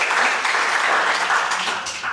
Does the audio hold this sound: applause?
yes